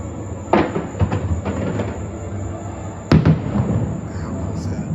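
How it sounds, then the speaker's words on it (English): Harmonious fireworks show at Walt Disney World heard from a Beach Club balcony: distant bursts and pops scattered over a low rumbling background, with two louder booms standing out amid the steady hum. "I can actually watch the harmonious fireworks from here"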